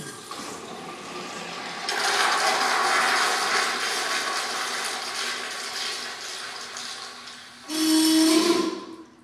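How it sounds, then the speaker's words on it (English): Toilet flushing in Stanford, Washington: a loud rushing gush of water starts suddenly, churns steadily for several seconds, tapers, then a second surge with a low groaning roar near the end, heard close in a quiet room. "This toilet sounds a little bit like a T-Rex when it's flushed."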